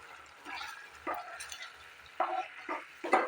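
Spices for chilli potato fry in a pan with a soft sizzle, broken by several short scraping stirs that come in quick irregular bursts, close and fairly quiet.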